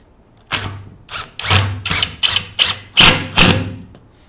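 A screw being hand-tightened into a cabinet panel for a wall unit: seven or eight separate squeaky, scraping twists in quick succession, close and fairly loud, with brief pauses between turns.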